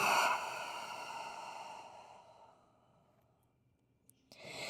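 A long, slow exhale during a slow yoga flow, starting as a loud breathy sigh that fades gradually into near silence, followed by the start of a fresh breath at the end.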